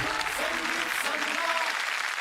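Studio audience applauding on a Marathi TV singing competition show, a steady dense wash of clapping held at even loudness throughout, with some faint tonal music or voice underneath.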